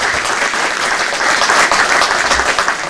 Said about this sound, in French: Je pense qu'on peut applaudir Monsieur